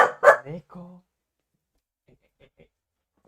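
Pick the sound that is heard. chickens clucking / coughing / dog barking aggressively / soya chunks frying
dog barking aggressively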